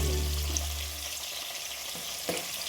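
Tomatoes frying in a pan in a home kitchen, a steady close sizzle with a couple of faint clinks and scrapes, no talking.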